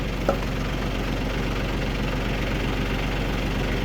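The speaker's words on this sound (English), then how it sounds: "I'm gonna keep the engine down low so you can hear me." A small log splitter engine idles steadily with a low, even rumble and a faint rhythmic knock, continuous throughout with no talking.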